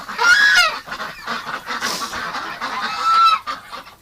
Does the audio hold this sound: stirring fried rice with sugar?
no